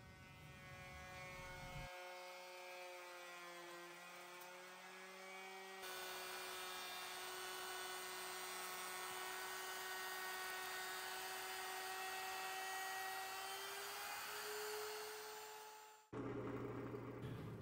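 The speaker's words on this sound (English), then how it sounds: "I'll clean up the cut using a flush cut bit in the router." A router fitted with a flush cut bit trims walnut against a clamped jig, a loud, steady high-pitched whine that holds for about fourteen seconds before cutting off abruptly.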